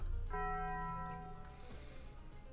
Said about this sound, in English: I've got to ring the bell.